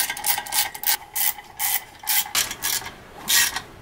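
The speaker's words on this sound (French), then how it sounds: "Donc on va un petit peu plus serrer le mécanisme pour que ça bloque un peu plus le disque garni à l'intérieur." Clutch mechanism on a Peugeot 406 gearbox being tightened in a workshop, giving a run of close, dry ratcheting and grinding bursts that repeat in uneven strokes for several seconds with no voices.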